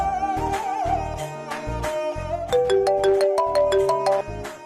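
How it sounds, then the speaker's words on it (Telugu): A mobile phone ringtone plays while a call is placed in a Telugu TV serial scene: a bright, steady electronic melody with repeating tones, loud and clear, with no talking over it. "కాల్ రాధిక."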